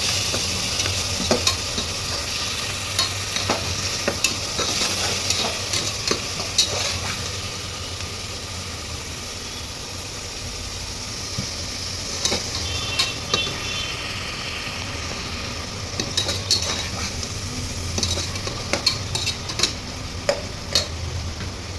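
Tomatoes fry in a hot pan with a continuous sizzle. A spoon stirs them in bursts, giving repeated scraping clicks against the pan, loudest early and again toward the end. No one speaks.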